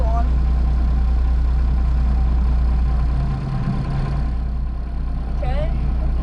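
A farm tractor runs steadily with its PTO engaged in a hay field ready for square baling, a continuous loud low drone throughout with a brief dip in the middle, while a person talks over it.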